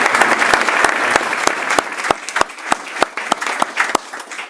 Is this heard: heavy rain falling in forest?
no